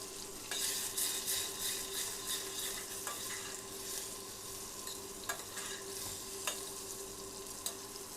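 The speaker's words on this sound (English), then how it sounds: "Terribly boring watching someone fry" Pork escalopes frying in a pan, a close, constant crackling sizzle with occasional sharp pops and faint clicks of a utensil, no voices over it.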